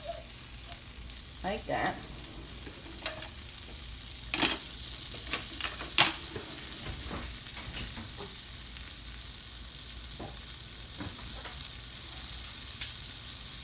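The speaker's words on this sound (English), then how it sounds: "And to my oil, I will go ahead and add just a little bit of butter" Butter added to a little hot oil in a pan gives a faint steady sizzle, with scattered clicks and light scrapes of stirring, and brief talk.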